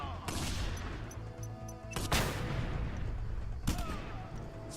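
Gunshots in Just Cause 2: three sharp, loud shots at wide intervals ring out over a low rumbling game background, each with a short tail, with no voices.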